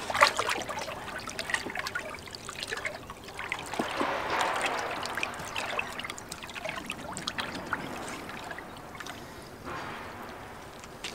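Water being stirred in an electrolysis rust removal bath for a cast iron pan, a soft sloshing and trickling that swells and fades in uneven waves, fairly faint and close.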